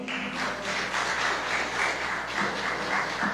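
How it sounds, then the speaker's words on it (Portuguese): Church congregation applauding during a worship service: continuous, even clapping from many hands, moderately loud and sustained across the moment without speech. "Eita, aplauda o Rei da Glória, hein?"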